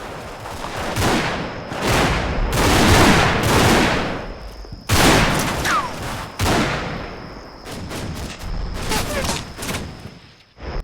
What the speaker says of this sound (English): Long-range gunfire exchange inflicts casualties but does not dislodge them.